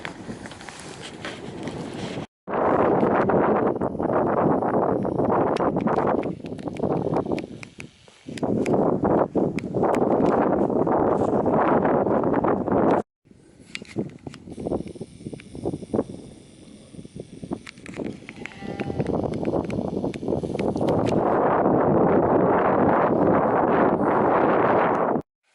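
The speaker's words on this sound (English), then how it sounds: "it's breezy today, so as it normally is on these upland hills in Wales, it's quite breezy." Strong breezy wind buffeting the microphone on upland hills near Harlech in Wales, loud roaring gusts broken by brief sudden drops to near silence, with no one talking.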